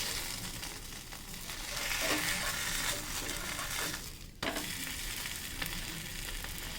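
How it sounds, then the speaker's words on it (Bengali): Bottle gourd pitha fries in a pan while being pressed down by hand, a continuous close sizzle with soft shifting crackles and a brief dip before the frying noise resumes evenly. "একটু হাতে সময় নিয়ে ধরে ধরে চেপে চেপে চারিদিকটা ভেজে নিতে হয়"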